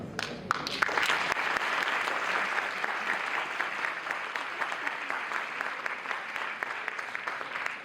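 Dense, sustained applause from an audience at a live on-stage conversation with actor Dia Mirza, a crowd clapping loudly and steadily throughout with no voices standing out.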